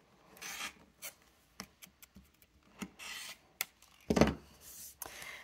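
Quilt block fabric is trimmed with soft, intermittent rasping cuts and scrapes, close and faint, separated by short pauses with one louder rough stroke near the end.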